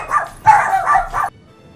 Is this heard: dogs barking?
yes